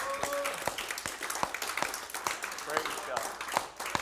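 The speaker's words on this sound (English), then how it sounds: "Give the Lord a hand clap" Scattered hand clapping from a church congregation in separate sharp claps at an irregular beat, with a voice speaking and singing over it.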